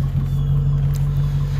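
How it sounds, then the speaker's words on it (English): A custom Mercedes-Benz SL55 AMG with Kleeman mid-length stainless steel headers and high-flow cats idles with a steady, deep exhaust burble, close and even throughout with no revving. "Has a real nice burble to it at idle."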